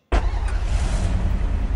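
A car idles or drives in the Free Fire MAX video game: a steady, loud, low engine rumble with a pulsing throb that holds unbroken from start to finish.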